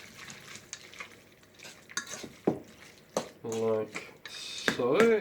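Ratatouille cannelloni filling is mixed in a bowl, with soft scraping and clinking of a utensil in short bursts. A person talks over the stirring throughout.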